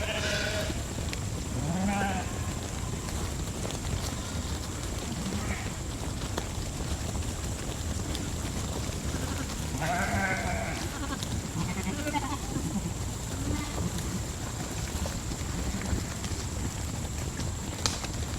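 A large flock of sheep bleats intermittently during a move across August forage, scattered calls near and far over steady wind and outdoor background noise.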